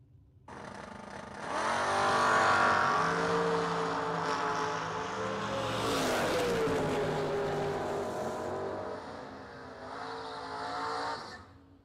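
Drag racing cars, among them a white Camaro roadster, roar past at a strip: a loud engine rush swells and pitches down as it passes, then fades.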